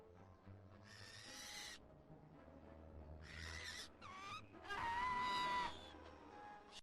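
An owl hoots in a series of calls, separated by short pauses and growing fuller toward the end, heard nearby over a low background rumble.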